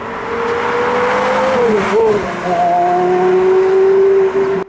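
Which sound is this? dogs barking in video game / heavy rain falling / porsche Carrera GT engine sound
porsche Carrera GT engine sound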